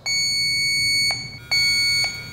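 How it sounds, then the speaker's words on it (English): An automotive air conditioning recovery and charging machine sounds loud, piercing electronic beeps during calibration: one long tone, then a brief gap and a second long tone, close and alone with no talking. "The beeps will be a long pause, and then they'll go to a different, more steady beep after it goes through that process."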